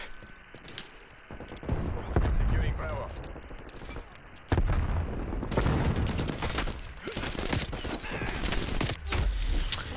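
Call of Duty: Cold War gunfire in a multiplayer match, with bursts of automatic rifle shots and impacts coming thick and loud from several directions, nearly continuous throughout with a sharp jump in intensity midway.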